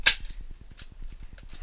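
A Nerf Modulus Tri-Strike blaster fires darts: one sharp snap up front, then a quick regular series of soft clicks and faint pops, close and fairly quiet.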